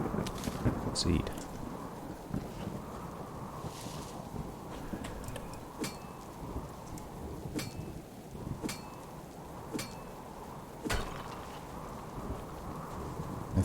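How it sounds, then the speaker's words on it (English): Loud thunderstorm in the survival game Subsistence: steady heavy rain hiss with rolling thunder underneath, broken by several sharp crackling cracks scattered throughout, while someone talks over it now and then. "Gosh, that storm is loud."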